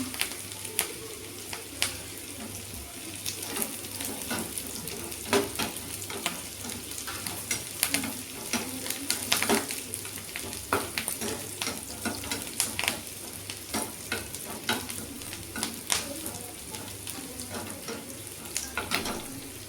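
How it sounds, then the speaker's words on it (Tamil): Small onions and curry leaves sauté in hot oil in a pan with a steady close sizzle, broken by frequent sharp clicks and scrapes from stirring. "சின்ன வெங்காயம் போட்டு சின்ன வெங்காயம் கருவேப்பிலை போட்டு நல்லா வதக்கிட்டு"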